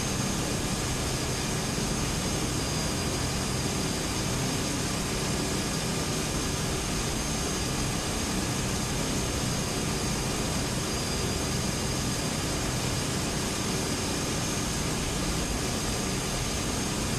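A King Air C90B turboprop in Flight Simulator X drones continuously at a steady, even pitch, with a dense broadband roar and faint tonal whine, constant and unbroken with no voices.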